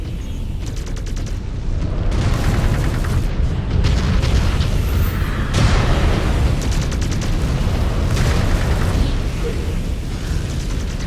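Mech weapons fire in MechWarrior 5 Clans as loud, dense bursts of booming blasts and mechanical clatter come close together over a rumbling battle.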